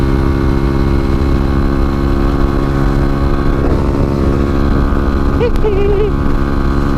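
Small motorcycle engine running steadily throughout while being ridden, a continuous mid-pitched drone with stable harmonics, close and loud, with a brief bit of voice near the end.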